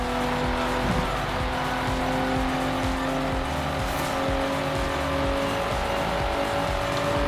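Game car engine from GTA IV: The Lost and Damned revs in steady harmonic tones with bursts of tire squeal and skidding, loud and continuous for the whole stretch, with no talking.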